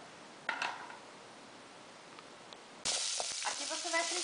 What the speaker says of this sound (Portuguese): Aqui você vai fritando a cebola um pouco, até ela murchar